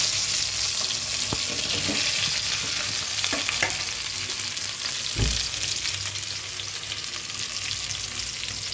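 Spiny gourd pieces sizzle in hot oil with five-spice seeds, a loud, continuous close-up frying hiss with occasional soft knocks from stirring.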